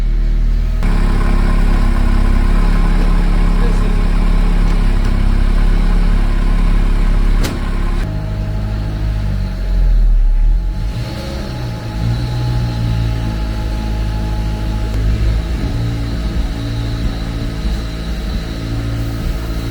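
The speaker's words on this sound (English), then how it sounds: "Can a flooded Miata do a burnout?" A flood-damaged Mazda Miata engine idles and revs during a burnout attempt, a loud, continuous mid-pitched engine drone with a shift in tone partway through.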